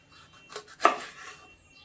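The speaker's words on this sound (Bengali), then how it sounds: "ক্যাপসিকামগুলো আমি এরকম ছোট করে কেটে নেব।" A knife chops capsicum into small pieces on a board: a few soft, close knocks, the last one clearest, quiet and alone without talk.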